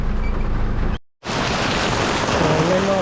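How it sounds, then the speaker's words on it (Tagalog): Heavy rain pours down steadily and loudly outdoors at night, a dense wash of noise that cuts out briefly and returns just as strong, with no voices. "Sobrang lakas ng ulan mga buddy."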